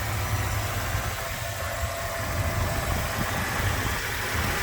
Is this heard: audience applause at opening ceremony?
no